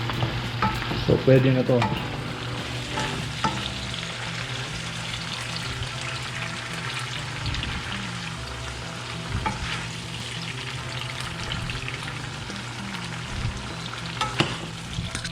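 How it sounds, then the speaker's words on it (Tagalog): Vegetables frying in a pan for a Kapampangan fish pochero, a continuous sizzle with stirring and scraping throughout, occasional water sounds, and a brief spoken remark near the end. "iprito na yung gulay para ilagay na lang mamaya"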